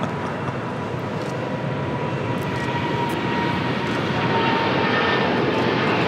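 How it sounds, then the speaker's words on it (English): An American Airlines Boeing 777-300ER, flight 349 bound for Miami, takes off from LAX with a loud, steady broadband engine roar that swells slightly over several seconds, with no voices. "This is American Airlines 349 taking off to Miami, Florida on a 777 300ER."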